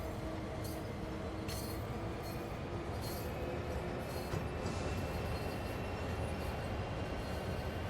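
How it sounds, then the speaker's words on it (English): Freight train in the Train Sim World 3 game slowing on Cajon Pass, a steady low rumble of railcars with faint high wheel squeal and occasional clinks, continuous and fairly close, no talking. "I don't know why the train's stopping."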